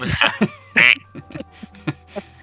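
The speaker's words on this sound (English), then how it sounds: "I think it's a duck" A duck quacks in a quick series of close, loud calls, the strongest burst about a third of the way through, followed by softer scattered quacks.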